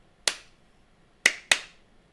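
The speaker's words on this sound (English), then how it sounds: "And don't forget to clap." Three sharp hand claps ring out in a quiet room as a sync marker for a recording: one single clap, then a pause of about a second, then two quick claps close together, each crisp and near.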